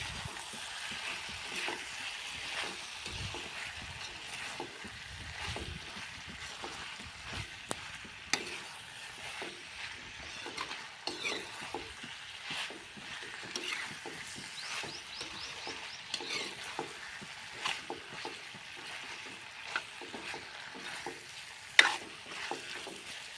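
Chicken masala with fried onion stirred in an oily pan, a continuous close sizzle broken by frequent scraping and clicking spoon strokes, some sharper knocks.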